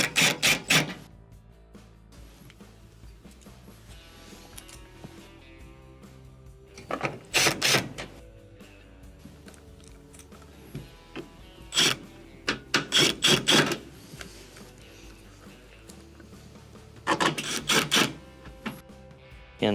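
Screws being driven back into a refrigerator panel during an inverter circuit board repair: short bursts of buzzing, rasping turns spaced several seconds apart, close and fairly loud, with quiet gaps between.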